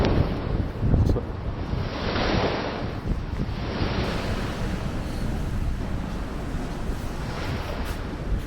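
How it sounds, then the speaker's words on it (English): Ocean waves crash against rocky outcrops along the Muizenberg shore in Cape Town, a steady, broad wash of surf mixed with gusting wind buffeting the microphone, with one louder surge near the start. "the sea stretches as far as the eye can see, with waves crashing against rocky outcrops"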